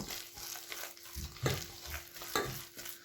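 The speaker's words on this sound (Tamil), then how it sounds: "இந்த மாதிரி ஒரு மூன்று நிமிஷம் போல் நல்லா கையால் கலந்து மிக்ஸ் பண்ணிக்கொள்ளுங்க" Ground urad dal batter with salt being mixed by hand in a bowl, giving wet squelching and slapping strokes that repeat unevenly, close and moderately quiet, no talking.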